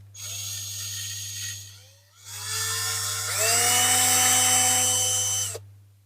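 A small drill boring a starting hole for a rivet in the base of a restored Dinky Toys Mercedes Benz 220SE diecast model, heard as two close high-pitched whirring bursts, the second longer and rising in pitch before stopping abruptly.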